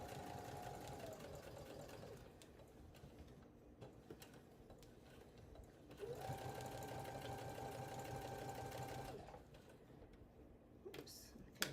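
A sewing machine stitches an embroidered accessory case in two steady runs of several seconds each, broken by a quieter pause, heard faintly at a low level.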